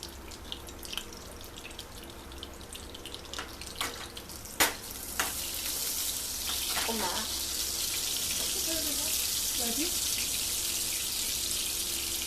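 A pot of water boiling on a home kitchen stove with foam rising, giving a steady broad hiss and bubbling that builds and holds loud after a few scattered knocks and clinks near the start.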